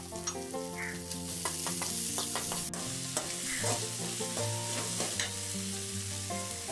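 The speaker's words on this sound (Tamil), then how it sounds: "கொஞ்சமாக உப்பு போட்டு ஒரு 2-3 மினிட்ஸ் நல்லா ஃப்ரை பண்ணி விட்டாலே போதும்." Onions fry in a pan with a little salt, giving a steady, close sizzle broken by frequent scraping stir strokes, with no talking.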